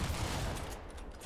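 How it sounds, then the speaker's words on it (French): Rocket launcher fire in Fortnite comes as a short, loud burst of blast noise that dies into a duller rumble after about a second. "y'en a qui m'a tiré dessus au lance-roquette"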